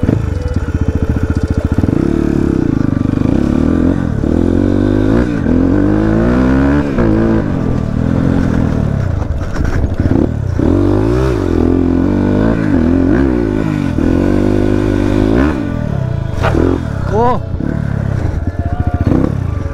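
A dirt bike races around a new dirt track, its engine revving up and down continuously at close range with rising and falling whines and occasional clatter, voices faintly mixed in.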